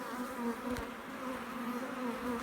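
Honey bees buzz steadily at an open hive, a close, continuous droning hum with a slight waver and no voices.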